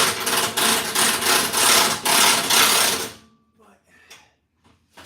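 An old impact gun fitted with an adapter zips bolts off a Ford bumper in a garage, loud rattling bursts with brief pauses for about three seconds, then quiet clatter and a short spoken word.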